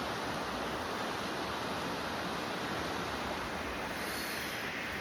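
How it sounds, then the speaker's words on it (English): A loud river rushes at dawn on a mountain rafting trip, a steady dense roar of flowing water, constant and unbroken, with no voices. "River was loud all night."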